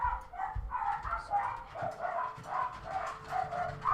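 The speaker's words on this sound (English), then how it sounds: "the last time the dogs barked like this, we did have some big deliveries" Several dogs bark and yip repeatedly somewhere off in the house, a fairly faint, continuous run of excited barking with no one talking.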